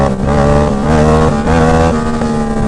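A Yamaha MT-07 motorcycle is ridden hard, its engine loud and close with a continuous throaty roar that rises and shifts pitch through quick gear changes.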